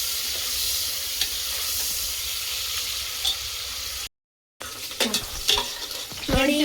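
Onions frying in a pan for kebab give a steady, close hiss of sizzling oil. After a brief gap, stirring scrapes and clatters of a utensil against the pan come over the sizzle.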